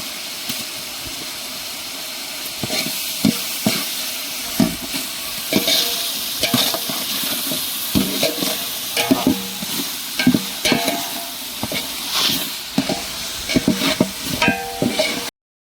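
Ginger garlic paste frying in hot oil for chicken biryani, with a steady sizzle and repeated scraping strokes of stirring, fairly loud and close, with no talking.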